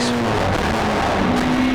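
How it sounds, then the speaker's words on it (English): A race car engine roars steadily at high revs on a hillclimb course, loud and close, with a slight pitch rise as it powers up the straight. "with full power on the exit hangs the tail out, powering up Castle Straight"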